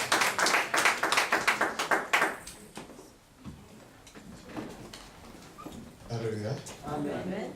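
A church congregation at a French-language miracle service claps in a brisk rhythmic burst for about two seconds, then the clapping stops and voices and music take over.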